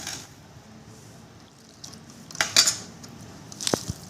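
A few scattered clinks of a spoon against a bowl while mixing drumstick pickle, with a quiet background and a couple of sharper taps near the end.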